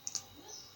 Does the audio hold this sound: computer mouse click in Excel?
yes